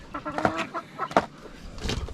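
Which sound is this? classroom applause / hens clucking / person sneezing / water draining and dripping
hens clucking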